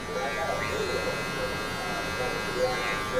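Electric hair clippers with the lever fully open and no guard buzz steadily and close up through a low taper fade, a continuous hum with faint talk mixed in.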